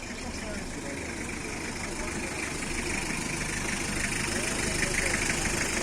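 A Hyundai Porter truck with a new engine runs at a steady idle, a dense continuous rumble with a slight rise in level toward the end, and voices murmur faintly in the background.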